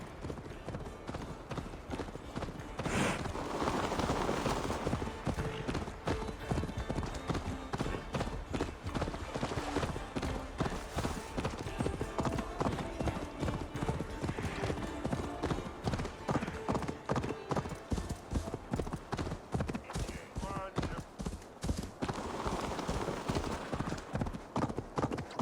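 Rhythmic clip-clop of horse hooves at a steady gallop in the video game Assassin's Creed Valhalla, continuous and fairly loud, with occasional whinny-like tones and faint voices in the background.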